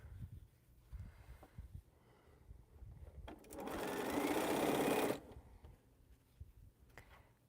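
A sewing machine stitching mini pinwheel quilt blocks, one fast burst of running stitches lasting under two seconds amid quiet handling noises and soft rustling.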